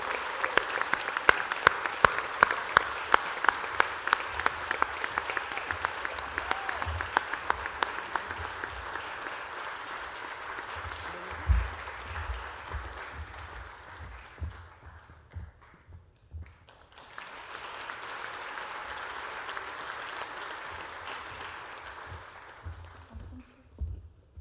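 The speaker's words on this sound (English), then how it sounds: "So with this, I ask that we all raise our hands and we have a resounding round of applause for Karina Rojas, our only Lehman superstar." Audience applause fills a college convocation ceremony hall, a sustained broad wash of clapping with a brief dip partway through before the clapping swells again, heard alone without talk.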